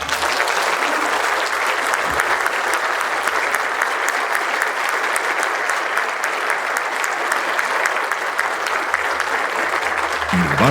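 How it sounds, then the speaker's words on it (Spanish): An audience at the inauguration ceremony of the 13th State Congress of Judges of Jalisco applauds in a long, sustained, loud round of clapping that holds steady, with no speech over it. "Un fuerte aplauso."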